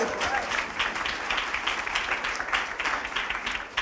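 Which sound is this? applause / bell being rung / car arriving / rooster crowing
applause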